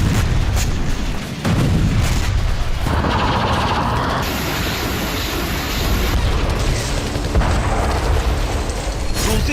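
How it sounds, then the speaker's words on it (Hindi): Heavy Russian army bombardment, a continuous loud wall of rumbling explosions and booming artillery fire with dense low-end roar and no clear gaps, sustained throughout. "रूसी सेना ने जबरदस्त बमबारी शुरू कर दी है"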